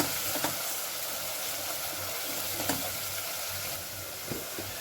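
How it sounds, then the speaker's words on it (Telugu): Masala frying in oil for a chickpea curry, a steady close sizzle with soft crackles and a few scraping stirs, with no talking. "ఇది నూనెలు బాగా వేగాలండి నూనె వేగాలి ఇది నూనె పైకి తేలాలి"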